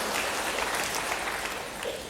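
A church congregation applauds, a short dense burst of many hands clapping together, loud, close and continuous with no speech over it.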